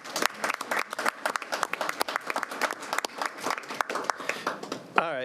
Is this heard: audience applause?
yes